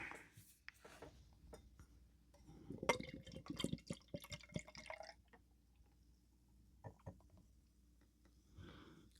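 Beer from Long Live Beerworks and Vault City, Unbarreled Bites, poured into a Tilted Barn glass, with quiet glugging, dripping and trickling close by, peaking briefly then settling into faint fizz and drips.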